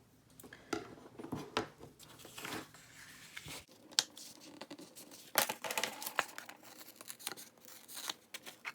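Scissors cut a paper shape out for a triangle iris folding card, giving close, irregular snips and rustling crinkles of paper with a few louder clicks and pauses between bursts.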